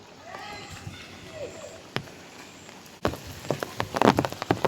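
Heavy rain pours down on an empty road, a dense close patter that grows louder and busier in the second half, with faint voice sounds in the background.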